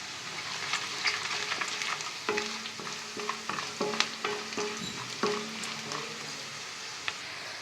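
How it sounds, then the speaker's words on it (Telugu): Green chillies, chana dal and urad dal fry in hot oil for upma, giving a steady close sizzle broken by repeated scraping stirs of a spoon against the pan. "ఇప్పుడు వీటిని ఒక 1 మినిట్ వరకు ఫ్రై చేసుకోవాలి."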